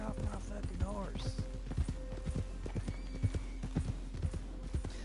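Horse hooves clip-clop in a steady rhythm while riding in Red Dead Redemption 2, loud and close, with an occasional whinny and game ambience beneath.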